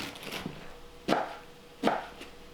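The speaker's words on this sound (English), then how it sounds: "So while the onions and mushrooms are cooking, we're gonna cut up our other veggies." A knife chops through baby bok choy on a cutting board in two sharp, distinct strokes about a second apart, close and crisp, with faint softer handling sounds before them and quiet between.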